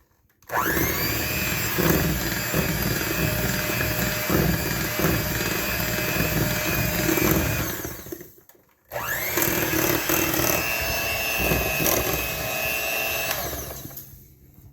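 Electric hand mixer whirring steadily as vanilla is beaten into chocolate chip cookie dough, a loud continuous motor drone with a brief pause near the middle before it starts up again.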